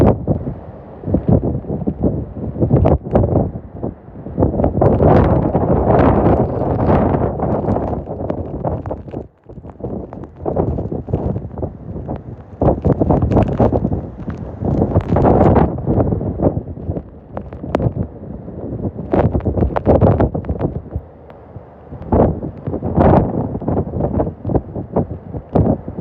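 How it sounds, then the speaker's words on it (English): Hurricane Milton's strong wind gusts roar through downtown Tampa, Florida, as heavy, loud buffeting on the microphone that surges and eases in waves with no break. "That was crazy. That was a big gust of wind."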